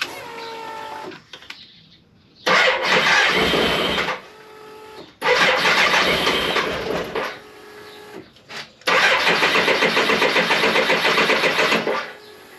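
A BMW K1100LT motorcycle's cold engine is cranked by the starter three times without catching, each whirring, mechanical attempt lasting a few seconds and separated by short pauses, loud and close.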